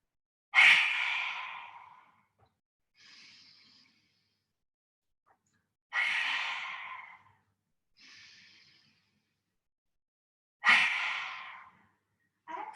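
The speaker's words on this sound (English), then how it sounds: "lion's breath is where we really stretch the chest forward and we stick the tongue out as we're exhaling as far as we can" Three forceful, breathy lion's-breath exhales during a yoga class, each pushed out with the tongue extended, spaced about five seconds apart with a softer breath in between, close and alone.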